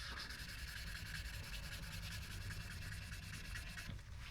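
Fine 1500-grit sandpaper rubs steadily across the finish of a Gibson Les Paul Special Double Cutaway guitar body to remove scratches, a continuous close scratchy swish with an even back-and-forth texture throughout, no talking.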